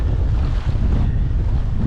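Strong gusting wind, around 60 mph, sweeps across a lake during a solo kayak duck hunt, a heavy continuous roar buffeting the microphone close up, with no talking.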